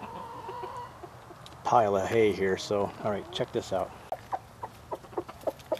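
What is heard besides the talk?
pheasant rooster and hen calling in their pen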